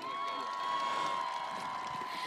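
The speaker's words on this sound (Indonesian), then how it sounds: "tepuk tangan sekali lagi" An outdoor crowd claps and cheers for a singer at an event in Labuan Bajo, a steady wash of applause under a sustained tone from the sound system.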